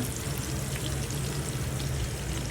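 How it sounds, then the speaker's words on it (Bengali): Steady, dense sizzling and crackling of hilsa fish frying in hot oil, continuous and close. "ইলিশ মাছ ভাজা হচ্ছে"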